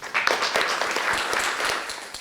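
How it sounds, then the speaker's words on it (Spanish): An audience at a masterclass applauds Rafael Lozano-Hemmer, a brief burst of dense clapping that swells quickly and holds steady for a couple of seconds. "pido un aplauso para Rafael"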